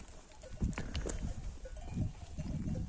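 Sheep on a farm bleat in short, scattered calls at moderate distance, two or three brief cries over a quiet barnyard background with light shuffling.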